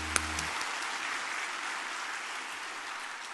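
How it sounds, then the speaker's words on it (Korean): A church congregation at a New Year revival service breaks into sustained applause, a dense, even wash of many hands clapping that fills the space, heard from somewhat far off. "하나님께 영광의 박수 올리겠습니다."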